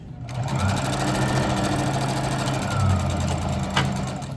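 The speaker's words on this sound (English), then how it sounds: "I always do a back stitch." A sewing machine back stitching on a scrap quilt block runs in a continuous, close, loud mechanical whir with a fast rhythmic needle beat, slowing briefly before a small click near the end.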